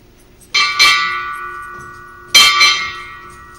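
A ship's bell rings four times in two quick pairs at a US Navy change of command ceremony for Expeditionary Medical Facility Bethesda, each clear metallic strike ringing out and decaying in a quiet hall.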